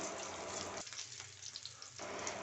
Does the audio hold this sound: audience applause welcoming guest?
no